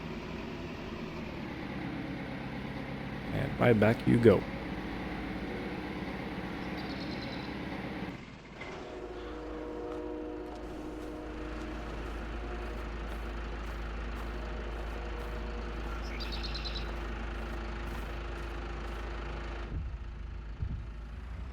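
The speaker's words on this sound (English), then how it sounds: "Luckily I have a tractor that fits in there." A tractor engine in a snowy farming simulation game idles and runs at a steady low drone for most of the clip, with a brief louder burst early on and someone speaking once.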